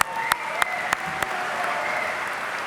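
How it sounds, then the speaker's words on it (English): A Basketball Hall of Fame enshrinement audience claps: four sharp, evenly spaced claps lead into a brief burst of general applause that fades into a low, steady crowd murmur. "clap it up."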